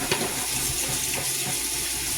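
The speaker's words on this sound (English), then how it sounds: "let this hot water fill up in there so I can wash out my cake mixer" Hot water runs from a kitchen tap into a cake pan, a steady broadband rush of filling water close by, continuous without any talking.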